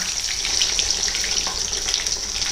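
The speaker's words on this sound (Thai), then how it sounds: "มันจะทำให้น้ำมันกระเด็นได้นะคะ" Kingfisher fish fries in hot oil with fish sauce, a dense, steady crackling sizzle with fine spattering pops, close and even throughout.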